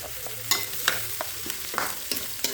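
Fatty pork frying in a pan for dinuguan, with sharp pops and spatters of grease breaking out at irregular moments over a steady low sizzle.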